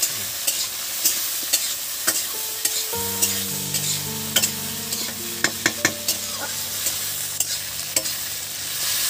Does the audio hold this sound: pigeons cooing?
no